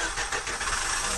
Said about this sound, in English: That was a car sound.